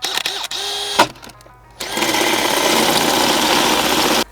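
A cordless power drill whirs steadily and loudly for a couple of seconds while fixing something in a garden, after a few brief clicks and a short pause.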